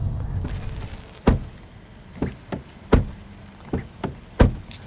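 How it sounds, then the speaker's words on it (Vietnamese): A Peugeot 2008 car door is shut several times, giving about six solid, close thumps spaced irregularly over a quiet background with no talking. "Nghe cái tiếng đóng cửa chưa?"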